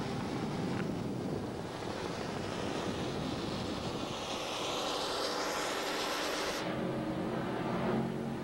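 Offshore powerboats in Superboat racing at Marathon, Florida, 1989, roar loudly past with a sustained engine drone that swells and sweeps in pitch before cutting off, wind buffeting the microphone.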